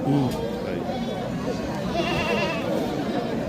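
Jamunapari goat bleating at a busy goat market, short calls rising over a steady crowd of voices and livestock noise, with people talking nearby throughout.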